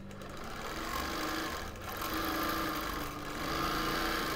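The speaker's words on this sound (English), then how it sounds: "So now I will try and smoothly start stitching again with luck." A sewing machine stitching free-motion quilted borders on a wholecloth quilt, with a steady, close mechanical whir that holds almost without a break.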